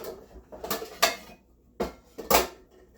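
Pots and pans clattering and banging as someone rummages for a pan in a home kitchen; several loud metallic clanks come in separate bursts with short pauses between them, close by and with no talking.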